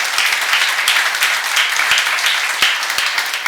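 A Korean church congregation applauds during a seminar on Ephesians, loud sustained clapping with scattered sharper individual claps standing out across the full stretch.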